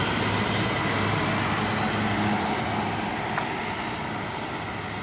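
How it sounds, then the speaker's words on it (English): CSX freight train I-169 rumbles past at close range in a loud, continuous roar of rolling cars that holds steady with little variation. "Symbol on this train is CSX I-169"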